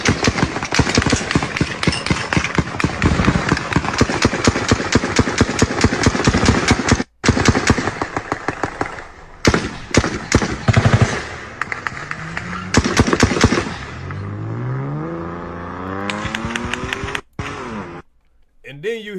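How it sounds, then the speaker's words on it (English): Sustained bursts of rapid rifle fire resembling an AK or Draco rip off dozens of shots in quick rhythm, broken by brief pauses, then give way to a car engine revving and tires screeching away. "It sound like an AK or some kind of Draco or something, but that one gun got like 100 shots."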